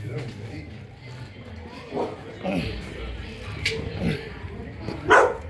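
A big dog barks a few times at moderate distance in a Colombian neighborhood street, mixed with people talking and shuffling movement.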